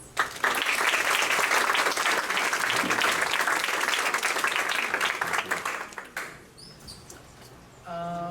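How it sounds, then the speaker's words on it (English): Audience applause at a school NJHS ceremony honoring a student who directed the secondary school play, dense clapping for about six seconds that fades out, followed by a faint chirping tone. "Please give him a round of applause."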